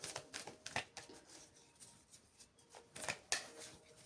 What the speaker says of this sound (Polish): Nie będę może znowu tak długo tasować